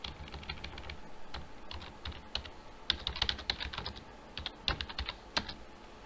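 Typing on a computer keyboard during a Java programming lesson, a steady patter of close, light key clicks with a few louder keystrokes, no talk.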